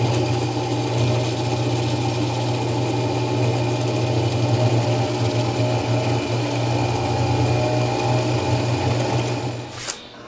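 Fishing line winds onto the spool of a Van Staal reel, a steady motorized whir with strong low hum running continuously and evenly for about ten seconds before stopping, with no talk.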